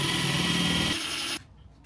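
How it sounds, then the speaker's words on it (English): Power drill boring into a car part, a splitter laid on a workbench, with a steady grinding whir for about a second and a half before it cuts off abruptly to near quiet. "I put the splitter on the workbench so I can start drilling"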